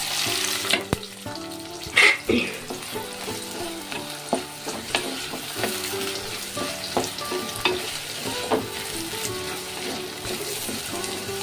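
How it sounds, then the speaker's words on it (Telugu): Fenugreek seeds and chopped onions frying in oil make a lively, close sizzle, with frequent clinks and scrapes of a spoon stirring the pan and a sharper clatter early on. "ఇవి కొంచెం ఎర్రగా ఫ్రై అయిన తర్వాత ఇందులో చిన్నగా కట్ చేసుకున్న ఆనియన్స్"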